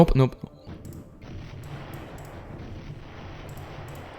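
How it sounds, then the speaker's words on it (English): A cannon in a war-zone video game fires: a loud burst of several rapid shots at the start, then a lower rumbling battle ambience that carries on steadily. "just destroy the cannon at this point and dodge its shots"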